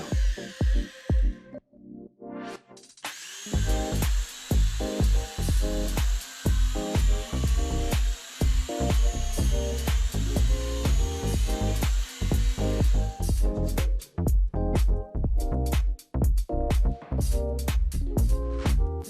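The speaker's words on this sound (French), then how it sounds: "Placez la fraiseuse à cheville contre le bord, percez 2 trous aux 2 extrémités dans l'épaisseur des côtés gauche et droit de la planche inférieure." Dowel joiner drilling two holes into each end of a board's edge for a tool cart, a steady whining motor run over dense knocking and clattering, close and continuous with short breaks.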